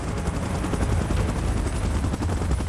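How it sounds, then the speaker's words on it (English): Helicopter in the PUBG Mobile game, a loud continuous rotor thrum with rapid beating chop filling the whole stretch, close and steady, with no voices. "Chopper in position."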